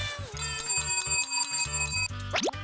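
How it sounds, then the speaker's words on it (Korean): A bright bell rings in quick repeated strikes to call kittens to their food, loud and close, its ringing overtones sustained, ending with a short rising squeak. "종소리가 울리면 밥대가 됐다는 것 기가 막히게 알아듣고 모여드네요"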